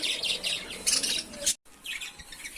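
Exotic cage birds chirp in repeated bright bursts, fairly close and moderately loud, with a brief silent gap midway before the chirping resumes.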